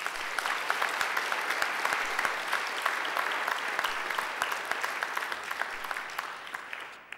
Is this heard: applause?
yes